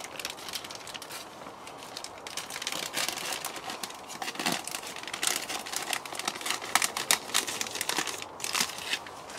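A plastic bag is cut away in a no-dig garden bed, producing continuous crinkling and rustling with rapid crackly bursts, close and moderately loud.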